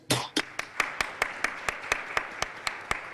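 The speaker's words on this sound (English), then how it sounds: "I'd like to ask that we all give our student participants, our entrepreneurs, a round of applause if possible" A small audience gives a round of applause for student entrepreneurs at an international university startup competition, sparse individual claps falling in a loose, steady rhythm, close and moderately loud with no talk over them.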